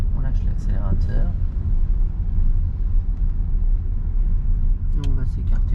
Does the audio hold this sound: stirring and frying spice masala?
no